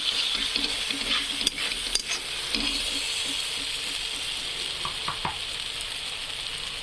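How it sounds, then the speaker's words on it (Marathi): Roasted spice masala sizzles and fries steadily in hot oil in a fish curry pan, a close continuous crackle with a few scraping stirs and clinks, no talking. "भाजला मसाला होता, छान असं तेल सोडत आहे मसाला."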